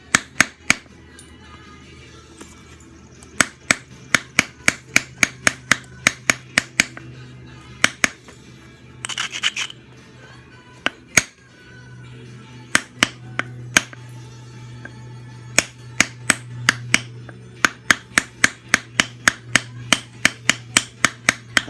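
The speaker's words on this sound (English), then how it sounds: "it really helps to have the edge held and then just give it a little pop with a punch" A whitetail antler tine punch taps against flint while knapping an Adena point, giving rapid sharp clicking strikes in quick clusters separated by short pauses, close and crisp.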